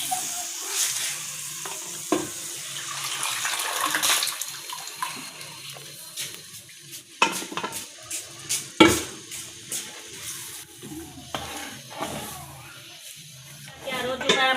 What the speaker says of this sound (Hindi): बुनाई हो चुकी है, अब मैं इसमें ऐड करने लगी हूँ दाल।